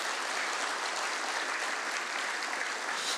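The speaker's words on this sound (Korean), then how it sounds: "오늘 여성도들을 위해서 한번 뜨거운 박수로" A church congregation at a Sunday service applauds warmly, a dense, even wash of clapping that holds steady and full throughout.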